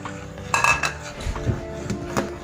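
A metal spoon stirs chicken soup in a pot, giving a run of close clinks and scrapes against the pot's sides at an uneven rhythm.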